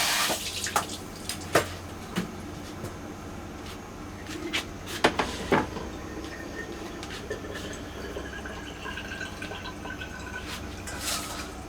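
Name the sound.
washing food under running tap water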